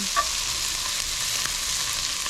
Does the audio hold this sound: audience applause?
no